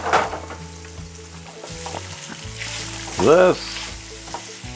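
Diced ham frying in a pan, with a continuous hissing sizzle and occasional scrapes, while a person speaks briefly over it.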